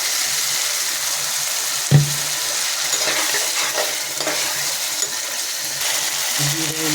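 Eggplant pieces and water going into a hot frying pan, a steady close sizzle with a brief sharp clatter as they drop in, followed by continuous bubbling frying.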